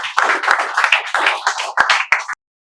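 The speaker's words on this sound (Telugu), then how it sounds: "మీకు స్వాగతం పలుకుతున్నారు 2 తెలుగు రాష్ట్ర విద్యార్థులు చప్పట్లతో" Students clapping together in welcome at a spoken English institute, a dense, close, lively burst of many hands for about two seconds before it stops abruptly.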